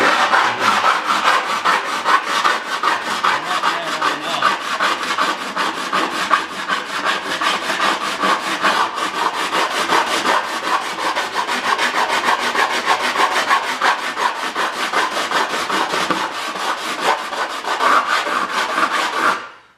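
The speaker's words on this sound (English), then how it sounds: "one of the absolute best things you can use is just a good old-fashioned Vixen file" A Vixen file is drawn along an edge in fast, even strokes, making a loud, continuous rasping scrape that holds steady throughout and stops abruptly at the end.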